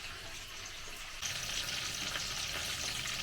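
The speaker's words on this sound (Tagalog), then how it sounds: "Pinirito lang natin ating mackerel." Mackerel frying in a pan on a home stove, a steady broadband sizzle and crackle that grows louder partway through and continues without speech.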